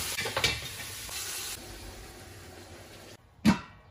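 Sizzling stir-fry of fresh chilies, scallion, ginger and garlic seasoned with salt, Sichuan pepper powder, soy sauce and ginger powder in a pan, with steady close frying hiss and sharp spatula clanks near the start and end, no talking.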